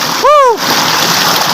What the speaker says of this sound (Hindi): ए चश्मा बड़ा ठंडा बर्फ पानी